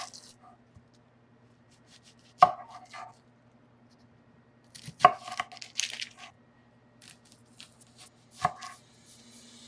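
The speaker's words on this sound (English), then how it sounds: "I'm going to cut both of the tips off the shallot and I am going to peel the shallot and I'm going to quarter these shallots." A knife cuts and quarters shallots on a board in a few crisp, separate chops with short scraping runs between them, close and clean over a faint steady hum, with no talking.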